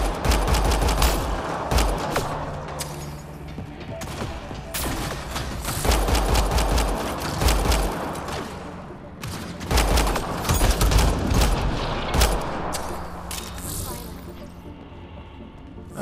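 Gunfire in a Mass Effect Andromeda firefight on New Tuchanka: dense rapid volleys of loud shots crackle in bursts, broken by short lulls and booming impacts, with occasional voices mixed in under the combat.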